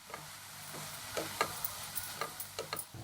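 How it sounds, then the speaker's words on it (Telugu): Cluster bean and moong dal curry stirred in a pan, a spoon scraping in a handful of soft, irregular strokes over a faint low sizzle, close and fairly quiet with no voices. "వేసి బాగా కలపాలి"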